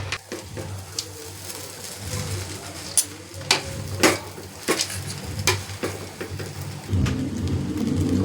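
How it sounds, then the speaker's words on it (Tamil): Mee goreng noodles are stirred in a hot pan, with a soft, steady sizzle broken by several sharp scraping and knocking strokes of the utensil. "இப்போ கிண்டி விட்டுக்கலாம்"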